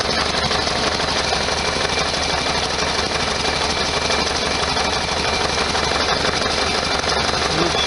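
A 1973 VW Super Beetle engine idles after a fuel pump repair, a continuous dense mechanical rumble and clatter holding steady the whole time without pauses.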